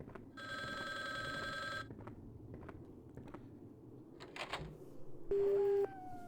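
A telephone rings in the Resident Evil Survivor video game, a long electronic trill followed by a shorter tone, heard faintly over low ambient game noise.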